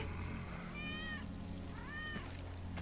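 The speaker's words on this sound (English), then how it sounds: "That's Wedge's cat." A cat meows twice in Final Fantasy 7 Remake, two clear rising-and-falling calls over a steady low in-game ambient hum, with no talking.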